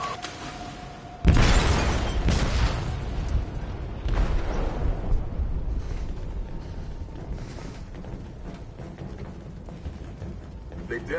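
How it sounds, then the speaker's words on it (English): Sudden loud explosion aboard a ship in a video game, a sharp blast followed by a second boom and a long rumbling, crackling decay of debris and groaning metal. "They detonated an explosive in the hold."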